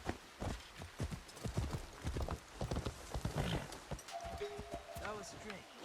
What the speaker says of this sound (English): Get on the horse, Yasuke.